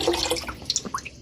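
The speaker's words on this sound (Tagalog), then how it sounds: "Agas naman itong gripo." Tap water running into a sink during dishwashing at a home kitchen, with soft splashing and irregular drips, fairly quiet and close.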